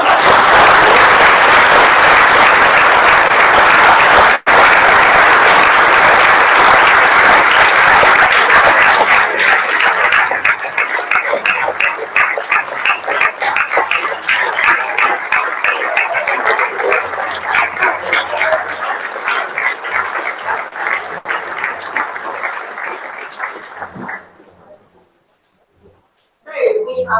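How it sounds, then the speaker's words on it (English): A debating society audience in Exeter breaks into loud, sustained clapping, a dense wash of applause that holds steady for over twenty seconds before thinning out and dying away near the end. "ask for a massive round of applause to welcome in tonight's speaker"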